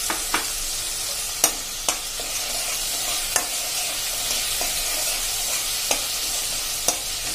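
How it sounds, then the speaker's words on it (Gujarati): Tomato puree and spice paste sauté in a pan for a ridge gourd and moong dal curry, giving a continuous bubbling sizzle punctuated by a handful of sharp spatula taps and pops, close and steady, without speech. "આપણું સરસ ટમેટાની પ્યુરી અને મસાલા બધા સંતળાઈ ગયું છે"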